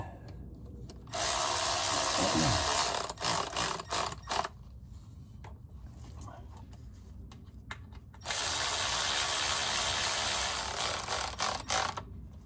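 A ratchet clicks in two long bursts, starting the bolts on the transmission of a 2012 BMW X3 during a drain and refill, with close, steady rapid pawl ticking and short pauses between the runs.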